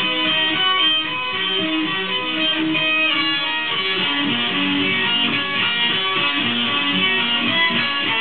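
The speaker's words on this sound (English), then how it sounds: "this is the lick, the cool lick for the day" Electric guitar playing a fast sweep-picked lick descending the neck, a continuous stream of bright, sustained distorted notes at steady loudness with no talking.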